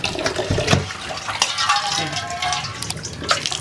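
Fresh mint leaves are rinsed by hand in a basin of water, with close, busy splashing and swishing that rises and falls in short bursts across the whole stretch.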